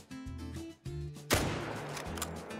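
A rifle shot fired at a grizzly bear in a hunting video game gives one sharp, loud close crack followed by a short rumbling tail, set against a steady low game background with no talk.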